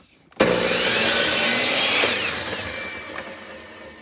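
A miter saw cuts through wood for a birdhouse, starting abruptly after a short pause and then holding a loud, continuous whine. The cut tapers off slowly toward the end.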